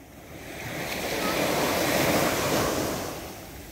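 Sea waves wash onto the shore, a broad rushing surf that swells and then fades, with wind buffeting the microphone.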